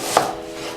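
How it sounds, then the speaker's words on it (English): A knife slices lengthwise through an onion for shepherd's pie, giving one sharp, close cut near the start, followed by a faint lingering rustle on the board. "what I like doing for my cut onion is I'll just cut them"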